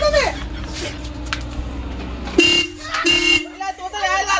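A vehicle horn sounds in two sustained blasts around the middle, set amid steady background chatter and talk in a comedy skit about a tire-puncture repair shop.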